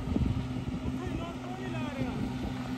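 A Guard World WD754 tractor engine runs steadily while pulling a 90 rotavator cutter through waterlogged field, a constant low diesel drone near and moderately loud, with someone talking over it.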